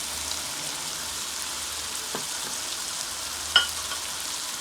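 Turmeric, salt and red chili frying in a pan for mixed daal, a steady soft sizzle with a faint hiss, one brief clink of a utensil near the end, no voices.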